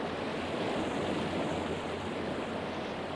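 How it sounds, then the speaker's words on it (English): A roaring waterfall tumbles into a lake in a dark cavern, heard as a continuous, even rush of falling water that stays steady and fairly faint throughout, with no voices. "a mighty waterfall tumbled out of the darkness above with a loud roar."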